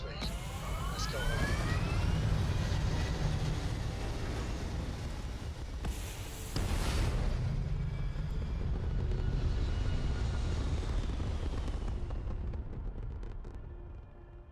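A spaceship lifts off into orbit in a space video game, heard as a loud, continuous roaring rumble with sweeping rising tones that surges again midway, then thins and fades toward the end.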